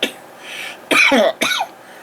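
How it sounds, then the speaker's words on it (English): A short throat-clearing sound, then two harsh, close coughs in quick succession against quiet background hiss. "Go away, cough."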